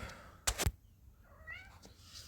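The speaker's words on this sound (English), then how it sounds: "Meow." A cat gives a short, fairly soft meow with a rising, slightly wavering tone, heard after a couple of sharp, loud knocks near the start, against quiet background noise.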